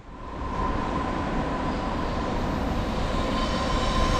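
A Canadian Pacific freight train rumbles past loud and close near the Matawin River Bridge, a steady roar of wheels on rails with a faint metallic tone running through it.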